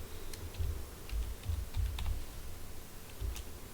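Close, quiet clicking on a computer keyboard as terminal commands are typed, in irregular bursts of keystrokes and soft thumps with no voices.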